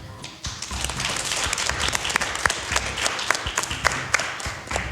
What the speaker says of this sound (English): A big round of applause for the lovely venue that we have for this season, Downhouse Muscat.